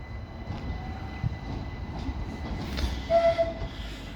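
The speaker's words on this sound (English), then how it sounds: "And the points have changed. And there's a brake release, and off it goes." A Class 387 electric train pulls away from Lewes station, its traction motors rising into a steady whine over a low rumble, with a brief hiss of brake release and a short tone near the end. Close and fairly loud, with no voices.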